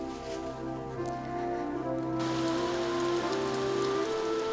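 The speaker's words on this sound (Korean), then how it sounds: "봄비가 그칠 줄 모르고 내렸다." Steady spring rain falls close by in a continuous, even patter, with soft sustained tones from music running underneath; no one speaks.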